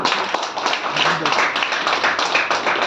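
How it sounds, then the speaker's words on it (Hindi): A crowd at a business leaders' meeting gives a loud, busy round of clapping that holds steady throughout, mixed with voices in the room. "तो सर लोगों के लिए जोरदार ताली"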